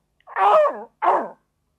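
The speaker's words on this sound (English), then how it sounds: "howled Woofer." A dog's howl from a children's story tape, two short voiced wails with a sliding pitch, the first longer and wavering, the second brief, heard alone and fairly near.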